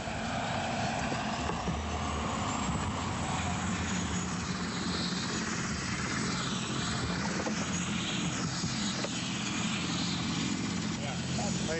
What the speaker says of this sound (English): You can't get any closer than this to the air rescue helicopter because of the fact of the debris that flies around